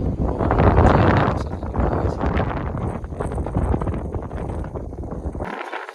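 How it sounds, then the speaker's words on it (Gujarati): Strong gusty wind on an open rooftop terrace under dark clouds buffets the microphone, a loud continuous roar that swells and eases, ending abruptly. "પવન ફૂલ છે, મારો અવાજ પણ તમને ના આવતો હશે"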